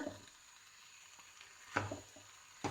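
Instant noodles stir-fry in a big wok, with a faint steady sizzle and a few louder scraping, tossing strokes near the end.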